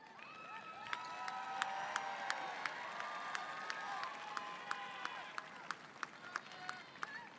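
A large crowd at a high school graduation ceremony applauds and cheers continuously, with many hands clapping, scattered sharp claps standing out, and whoops and shouts mixed into the steady roar.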